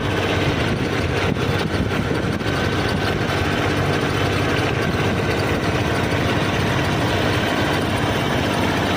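A newly bought farm tractor running in fourth gear for ploughing a waterlogged field, a loud, steady, unbroken engine drone close by for the whole stretch, with no talk over it.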